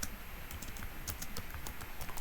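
Quick, light keystrokes on a computer keyboard while writing CodeIgniter code, a soft, uneven patter of clicks up close with no talking.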